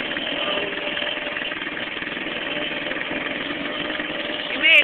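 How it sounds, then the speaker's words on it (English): Small quad engine straining up a steep competition hill, a steady buzzing mid-pitched drone that holds nearly constant throughout, close and fairly loud, ending in a brief louder flare. "Dave's going up Competition Hill in Kayla's quad"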